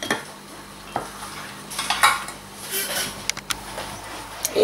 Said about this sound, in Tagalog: At yung ating cornstarch. So, haluin lang natin to.